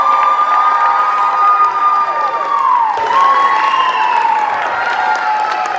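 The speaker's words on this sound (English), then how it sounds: "let's have a big round of applause for our winners" Lively crowd at an outdoor costume event cheering and applauding winners, a continuous wash of clapping and shouts with a high, sweeping whistle-like tone gliding through, loud and close.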